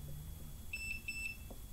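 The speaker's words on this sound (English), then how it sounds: "press the little button and it should beep once or twice" A hoverboard gives a quick series of high, thin electronic beeps after its power button is pressed. The beeps are short and evenly spaced, and they sound faint over a low background hum.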